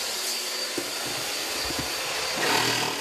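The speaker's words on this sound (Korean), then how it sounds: "청소기 좀 줘." A vacuum cleaner sucks up dust during a kitchen sink cabinet repair, a steady loud whooshing roar with a few knocks and a rising surge near the end.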